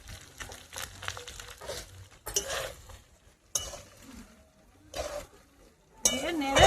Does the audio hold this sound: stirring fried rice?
yes